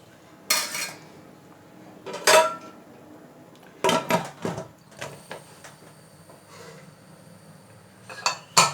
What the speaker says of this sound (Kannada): ಅದನ್ನು ಈಗ ತಿರುಗ್ಬಿಟ್ಟು ಕುಕ್ಕರ್ ಲಿಡ್ ಹಾಕ್ಬಿಡೋಣ